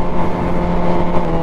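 A 750 motorcycle engine running steadily and loud up close, a dense continuous rumble with slight fluctuations.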